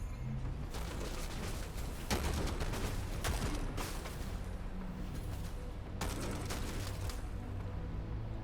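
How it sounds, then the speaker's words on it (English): Weapon fire in the tactical mech game Phantom Brigade, repeated heavy bursts and thumps at irregular intervals over a dense rumbling battle background, fairly quiet overall. "I'm just going to shoot him at this point"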